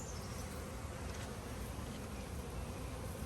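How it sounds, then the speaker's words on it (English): Dense, steady buzzing of a crowd of honey bees swarming close around an open hive during a brood frame inspection, a continuous loud drone with no pauses and no talking. "we just have a whole lot of bees all over us"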